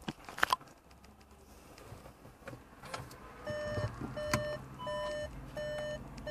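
A 2018 Skoda Karoq in reverse gives a series of evenly spaced electronic reversing beeps that start partway through, after some soft clicks and handling noises inside the car, with no talking.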